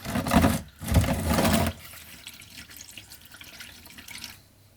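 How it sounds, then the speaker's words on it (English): Old engine oil from a Jaguar XJS 3.6 pours into a catch pan in a heavy, steady splashing stream that thins to a faint trickle partway through. "It's still draining a bit here and it's going to start dripping in a bit."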